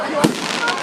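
Bonfire night fireworks burst nearby with a sharp crackling pop and then a second, softer burst, with excited voices talking over them.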